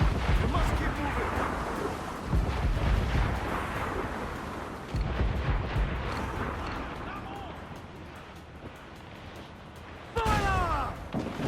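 Ship cannons firing during a naval battle in Assassin's Creed 4 Black Flag, heavy low booms and rumbling blasts under shouted crew voices, with a fresh loud boom near the end.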